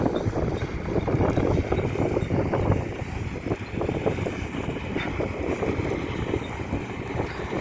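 A steady, rumbling engine drone runs throughout at constant loudness, with rattling mechanical texture and no voices.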